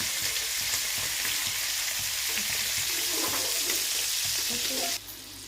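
Bllapata fish frying in a hot pan, turned piece by piece for a crisp fry, gives a steady loud sizzle throughout, with faint stirring clicks, easing slightly near the end.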